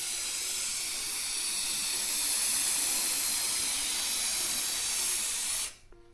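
Close, steady hiss of an aerosol spray can laying a coat of paint onto a car wiper cowl, running continuously for about five and a half seconds and cutting off sharply near the end.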